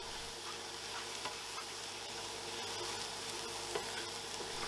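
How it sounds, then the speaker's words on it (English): Mushrooms dry-fry faintly and steadily in a pan on fairly high heat, a quiet continuous crackle with occasional soft pops and squeaks, and no talking. "if you listen carefully you can hear the mushrooms squeaking in the background"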